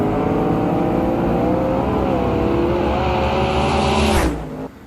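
A drag race car losing traction as it runs down the track, its engine a loud, sustained, close roar that holds steady before cutting off abruptly near the end.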